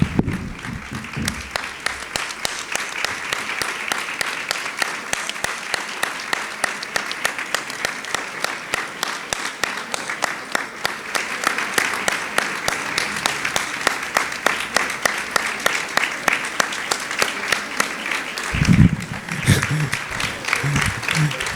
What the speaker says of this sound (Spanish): que la recibamos con un fuerte aplauso